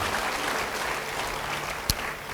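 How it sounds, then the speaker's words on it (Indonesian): A congregation in a church service claps during a sermon, a soft, distant wash of applause lasting a couple of seconds with one sharper knock partway through. "Yang mau beri tepuk tangan bagi dia."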